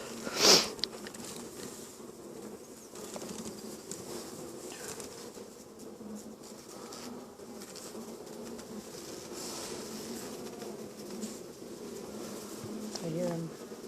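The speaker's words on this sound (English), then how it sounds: "Oh yeah, lots of bees." Honey bees buzz steadily around an opened hive during an inspection, a dense, close swarm hum that fills the whole stretch, with a brief knock near the start and faint movement of frames.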